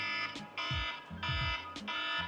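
An Apple Watch alarm clock tone sounds in a loud, repeating pattern of bright electronic chimes with rhythmic low pulses, cycling about three times alone without talk.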